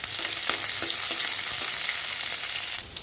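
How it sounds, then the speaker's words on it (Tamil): Mustard seeds, onion, dried red chili and curry leaves tempering in hot oil for rasam, a continuous dense sizzle with faint crackles and spoon scrapes, close and steady throughout. "ரசம் தாளிச்சுடலாம். கடுகு போட்டுக்கலாம்."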